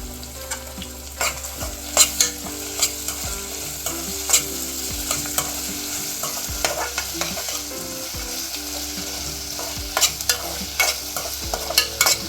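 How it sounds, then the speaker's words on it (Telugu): Green chillies and curry leaves fry with onions in a pan for a Telugu bottle gourd curd curry, a close, steady sizzle broken by repeated scrapes and clinks of a stirring spoon. "పచ్చిమిర్చి కట్ చేసుకొని పెట్టుకున్నాం కదా అది వేసేసుకొని కలుపుకోవాలి వేయించుకోవాలి ఇలాగ కరివేపాకు"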